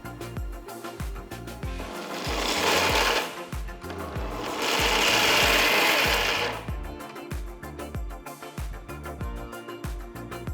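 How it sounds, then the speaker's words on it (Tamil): A mixer grinder jar coarsely grinds roasted peanuts in two loud whirring bursts, one short and one longer, over a steady rhythmic backing beat. "ஆறுனதும் ஒரு மிக்சர் ஜாரில் போட்டு கொரகொரப்பாக அரைச்சிக்கலாம்."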